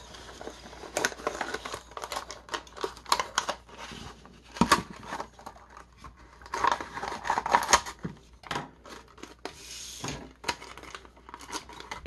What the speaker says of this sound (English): I'm going to take my nice little pocket knife here. Get underneath that edge, get that cut around.